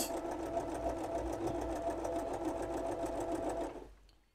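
A sewing machine stitches buttonholes on a black safari shirt, running in a steady rapid mechanical rhythm close by, then stopping abruptly near the end.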